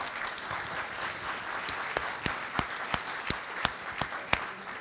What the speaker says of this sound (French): Et je vous invite tout de suite à l'applaudir.